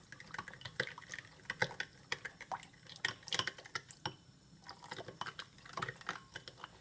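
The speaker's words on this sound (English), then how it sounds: "Add a little warm water, guys, and I'm gonna stir this" Warm water poured over yeast in a bowl and stirred while making homemade Guyanese-style pepperoni pizza dough; faint close drips, light liquid clicks and soft scraping taps of stirring, irregular and quiet with no talk.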